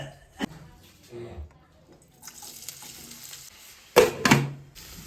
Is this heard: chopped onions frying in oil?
yes